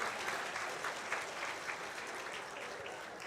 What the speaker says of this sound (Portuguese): pode aplaudir, não é?